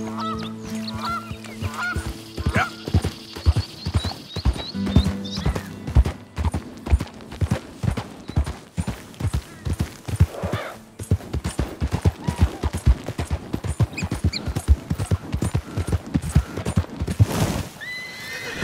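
Horses in Red Dead Redemption 2 gallop past in a dense drumming run of hoofbeats, with neighs and whinnies early on and loud, close clip-clop building through the long stretch.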